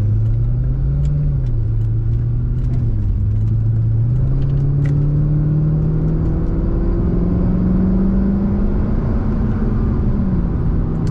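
A 2012 Chevrolet Corvette Grand Sport convertible with an automatic transmission cruising on a highway. Heard from inside, a steady engine drone and road rumble hold throughout, with engine pitch rising slowly through acceleration and small ticks over the hum.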